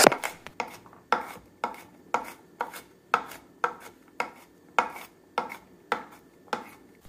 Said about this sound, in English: now we're mincing the garlic so we can throw it onto the sausage